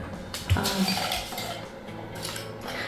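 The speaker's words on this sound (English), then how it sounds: "Now I want to put all these chips back into the mug." Small chips being tipped back into a mug late at night, a quick clatter and a few light clinks against the ceramic, close and fairly quiet in a still room.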